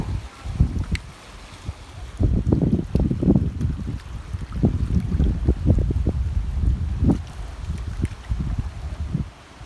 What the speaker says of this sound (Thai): ลมเย็นมากเลยวันนี้